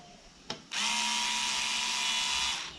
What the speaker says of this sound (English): I'm using this Black& Decker motorized screwdriver to take off my screws on the bike.